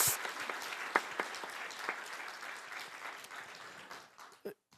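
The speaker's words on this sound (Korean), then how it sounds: "우리 하나님께 영광의 박수를 드릴까요?" A church congregation claps together in a dense, even burst of applause that fades toward the end.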